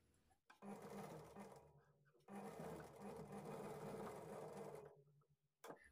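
Sewing machine running in two sustained bursts while stitching folded piping along a blouse edge, a close steady mechanical whir with a brief pause between runs.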